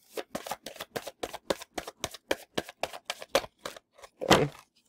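Tarot cards being shuffled in a kitchen, a quick run of about a dozen crisp riffling snaps in steady rhythm, close and clear, ending in one louder burst.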